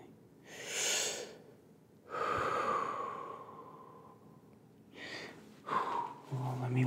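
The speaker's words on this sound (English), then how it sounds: "Just keep breathing." Heavy, close breaths during labor come in several long waves: deep inhales, sighing exhales and a gasp, with quiet gaps between them.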